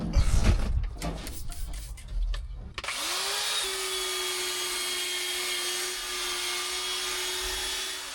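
A handheld drill fitted with a scrubber brush spins up and whirs steadily while scrubbing the carpet of a 1969 Mustang Fastback, after a few knocks and rustles at the start.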